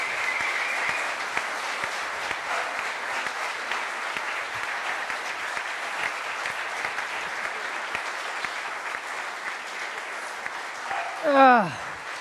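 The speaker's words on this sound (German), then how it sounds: "Bitte einen riesigen Applaus für Nadim Amiri." A studio audience at a German sports talk show applauds and cheers throughout as a guest footballer walks in, a loud steady wash of clapping with a brief whooping voice near the end.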